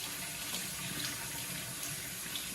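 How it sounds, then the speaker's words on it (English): Tap water runs steadily into a colander, rinsing corn syrup off candied orange peel for sfogliatelle, a continuous even splash close by with no voices. "just going to rinse off all of the corn syrup, so we just have orange peel left."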